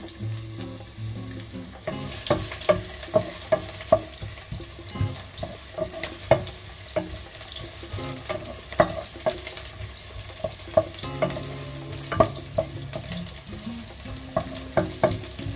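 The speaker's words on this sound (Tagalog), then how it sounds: "So, una maglalagay tayo ng mantika. Magigisa tayo ng luya." Ginger sizzling in hot cooking oil in a pan, a near, continuous fry with sharp crackles and pops scattered through, plus occasional scraping stir sounds, with no talk.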